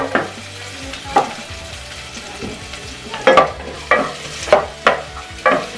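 Chopped onion fries in a pan for sotanghon guisado while a utensil stirs it, making loud, close sizzling with repeated rhythmic scraping strokes that come faster toward the end.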